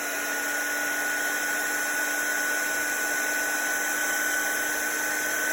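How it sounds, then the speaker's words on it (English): A heat tool used for drying watercolour paint runs continuously with a steady whining hum and airy rush, constant and close throughout. "This is my heat dryer."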